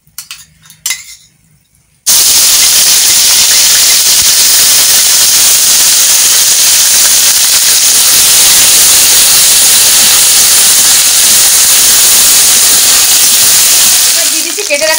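Ground ginger and chilli paste hitting hot tempering oil with cumin seeds and a pinch of salt, a loud, sudden sizzle that bursts in after a few soft clinks and then hisses steadily, close up, with no talk.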